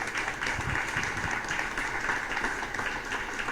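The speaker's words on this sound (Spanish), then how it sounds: "Dale fuerte ese aplauso." Church congregation applauding at a Spanish-language service, a continuous wash of clapping from many people, fairly faint and distant, with a few voices mixed in.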